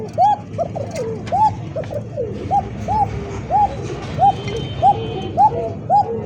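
Bombay pigeons cooing at a bird seller's, a rhythmic series of about ten short rising coos at regular intervals, close and clear over a low background murmur.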